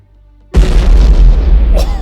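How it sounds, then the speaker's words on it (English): Naval bombardment shell explosion in the naval warfare video game War on the Sea, striking at night: a sudden, very loud deep boom followed by a sustained roaring rumble, with no speech. "they're probably going to bombard this place."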